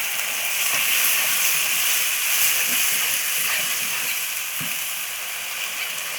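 Duck stir-fried with dried chili and holy basil sizzles in a hot pan. A dense, steady hiss of frying runs throughout with faint stirring scrapes, close and continuous.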